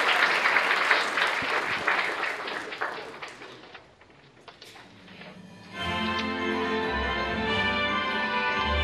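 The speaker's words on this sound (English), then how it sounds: "Please give them a round of applause again to Enu Denki." Audience applause at an international student EV design contest award ceremony, a dense burst of clapping for about five seconds that fades, followed by a steady hum with tonal background sound.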